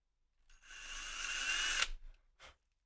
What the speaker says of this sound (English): We're drilling some holes in there.